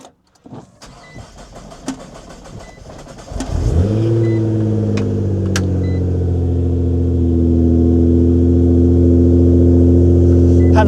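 A Nissan GT-R running on E85 fuel cranks over after a couple of weeks sitting, then catches and settles into a loud, steady idle that builds slightly. Faint clicks and rustles come before the engine fires.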